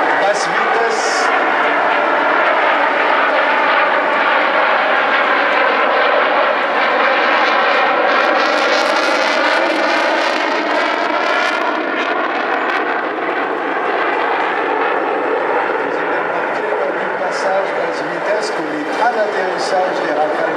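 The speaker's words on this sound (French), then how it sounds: "Il n'y a pas de volet sur Rafale, c'est un Delta Canard" Rafale delta-canard jet fighters roar past in a loud, sustained rush at an air show at La Ferté-Alais, the engine noise swelling and shifting as they pass, with a voice commentating over it.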